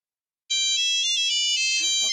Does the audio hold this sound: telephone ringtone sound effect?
yes